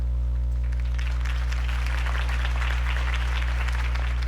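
Steady crowd applause and cheering in a Batman video game fill the space, a dense wash of clapping over a low constant hum, continuing without pause.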